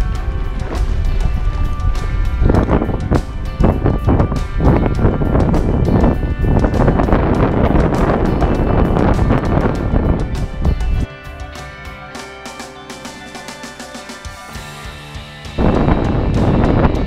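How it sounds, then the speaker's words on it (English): Loud, gusty wind buffeting the microphone on a lake in heavy rumbling bursts, dropping briefly to a calmer lull before surging again. "we're actually getting pounded with wind pretty good"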